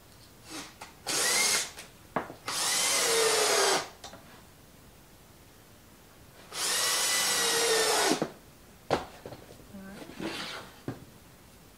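Power drill driving screws into 2x4 lumber for a wooden Christmas tree, several whirring bursts of one to two seconds, close and loud, with soft handling knocks between.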